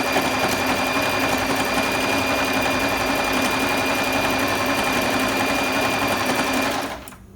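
Tugi Easy 60 domestic sewing machine stitching in a fast, continuous whirring rattle, loud and close, running steadily before stopping abruptly at the end.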